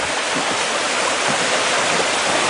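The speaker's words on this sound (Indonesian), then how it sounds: "Jeram pertama sebagai awal perkenalan kita dengan sungai ini diberi nama Goa Bagong." Goa Bagong river rapid on a river near Aik Berik, Lombok, roaring as a dense, continuous rush of whitewater, loud and close with no voices.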